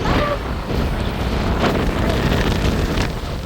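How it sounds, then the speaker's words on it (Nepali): Strong mountain wind on a trail near Nagthali, Nepal buffets the microphone in a constant loud roar with gusty swells throughout. "हावा कति धेरै चलेको"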